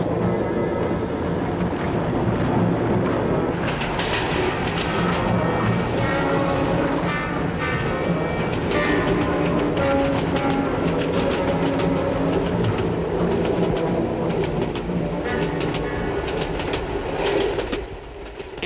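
An express train powered by two 1,000 horsepower engines runs on the London to Manchester line through Derbyshire, giving a continuous loud rumble with rhythmic clickety-clack of wheels on rail throughout.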